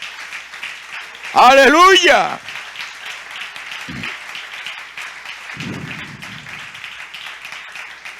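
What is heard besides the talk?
church congregation applauding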